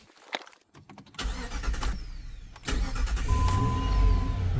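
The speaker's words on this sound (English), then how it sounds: "Let's go turn the car on." A 2005 Jeep Grand Cherokee engine is cranked after a few clicks and rustles, catches and settles into a steady, close idle.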